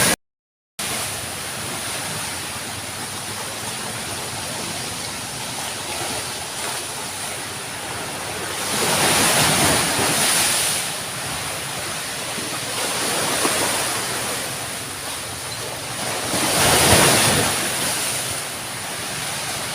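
Strong sea waves roll in and break on the shore during rough, high-water weather, with a steady roar of surf swelling into two louder crashes, and no one talking.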